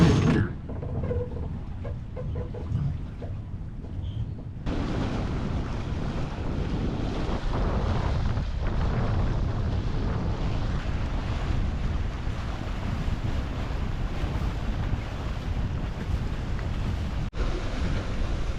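Strong wind of about 16 knots buffets the microphone aboard a sailboat near Belize's Blue Hole, with waves and rushing water beneath. The roar is steady and loud throughout, with no voices.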